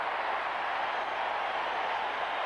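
A steady, broad roar from a baseball stadium crowd at a 1980 Astros–Dodgers game after a swinging strikeout, holding evenly loud and distant for the whole stretch.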